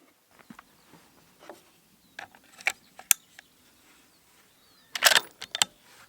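Quiet mechanical clicks and small metallic handling noises come from an ATA Turqua 6.5 Creedmoor bolt-action rifle being dry fired. A few light taps lead up to a sharper cluster of clicks as the trigger releases.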